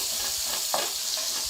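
Two small tomatoes drop into a hot frying pan for chicken vegetable pasta, giving a steady close sizzle with a brief burst of spatter as they land.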